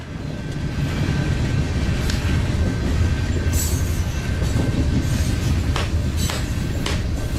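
A train rumbles steadily and loudly on the rails for several seconds. Scattered clicks and faint wheel squeals sound over the deep continuous roar.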